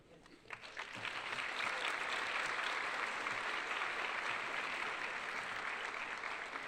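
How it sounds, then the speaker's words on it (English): An audience at an academic awards ceremony applauds, a dense, steady wash of many hands clapping that swells quickly and holds strong for several seconds, heard from within the room with no talking over it. "Oh, thank you for the applause."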